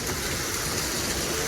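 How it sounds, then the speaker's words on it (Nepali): Jhor waterfall, billed as the biggest waterfall in Nepal, gives a steady, loud roar of rushing water that stays continuous and close, with no voices over it. "biggest waterfall of Nepal"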